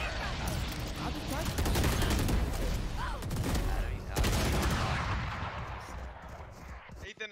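Video game gunfire crackles in dense, overlapping bursts of rapid shots, loud and continuous for several seconds before tapering off near the end.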